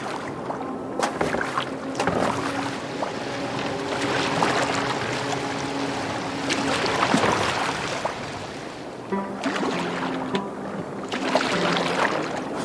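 Rowing a boat across water in Assassin's Creed Valhalla, a steady wash of water and oar strokes with creaking wood, continuous and moderately loud throughout, with no talking.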